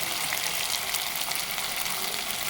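Finely chopped beans sizzle steadily in a hot pan for sago uppittu, a continuous bright frying hiss with no break and no talk.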